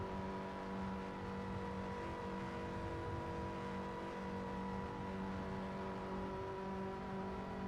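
Race cars in a racing video game drone along with a faint, steady whirring engine tone, sustained evenly throughout with no distinct passes or revs standing out.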